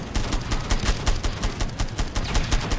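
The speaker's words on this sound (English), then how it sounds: "I love using this tank gun to shoot at these bugs straight in the face" Rapid automatic cannon fire from a tank gun in the Home Wars game, shooting at flying killer bees; dense, loud bursts of shots in a steady rattling rhythm with no pause, heard alone without talk.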